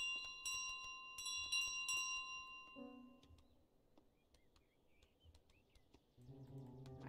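Bell rings out in Untitled Goose Game, a bright metallic chime struck several times in quick bursts near the start, then fading under soft game music and chirpy ambient sounds.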